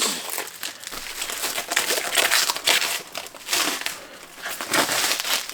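Plastic wrapping around a comic expo purchase crinkles and crackles as someone handles it up close, with continuous rustling and sharper crumpling bursts throughout.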